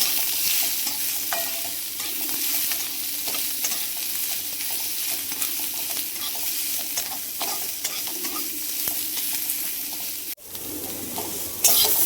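Onions fry loudly in a pan for paneer masala, a dense continuous sizzle with constant stirring and scraping, briefly dipping near the end.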